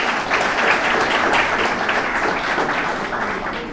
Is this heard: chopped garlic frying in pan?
no